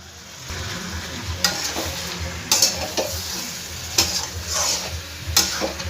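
Spiced jackfruit kofta sizzles steadily in a pan with a splash of water, while a spoon scrapes and stirs it in sharp periodic knocks against the metal, close and clear with no talking.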